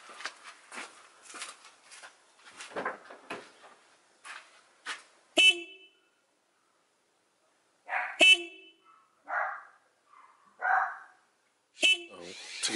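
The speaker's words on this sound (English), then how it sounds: "I'm gonna honk the horn and show you guys how it currently sounds with the stock horn." Three separate short horn blasts from the stock horn of a 2008 Chevy Aveo 5, each a brief bright honk with gaps of silence between, after a stretch of quieter clicking and handling noise.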